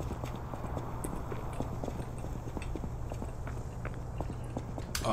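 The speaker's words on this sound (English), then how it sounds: "I hear him stomping." Heavy stomping footsteps of a large enemy in the video game Lies of P thud in a steady rhythm over a dense, noisy background.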